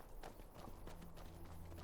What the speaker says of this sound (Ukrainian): Не тільки ж нам їздити на конячці від святилища до святилища, це нелогічно.